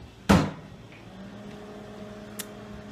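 A hand bangs once, sharp and close, on the top of a broken microwave oven, followed by the appliance's low steady hum running on and a faint small click near the end.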